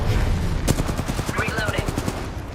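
Rapid automatic gunfire in a video game, a fast stream of close, loud shots with a sharp crack near the start, mixed with game noise and some voice chatter.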